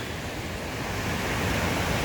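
The Nehalem River rushes over Nehalem Falls in Oregon, a steady, broad, hissing roar of moving water that holds constant from start to finish with no voices.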